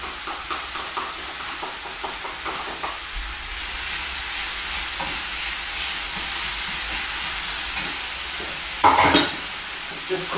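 Browned beef and cooked vegetables sizzle steadily in a pan as tomatoes go in, a close, continuous frying hiss with stirring scrapes and a brief louder burst near the end, without voices.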